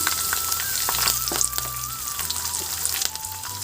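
Carrot rice ingredients, peanuts among them, fry in a pan with a steady close sizzle and a few soft stirring knocks, no voices.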